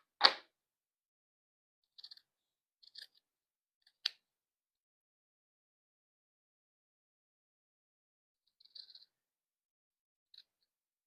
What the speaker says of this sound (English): So I'm just cutting off some of the extra fabric once I sewed it.